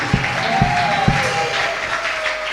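A church congregation at a prophetic service applauds steadily in a lively crowd roar, with a few sharper claps standing out near the start, under a faint voice.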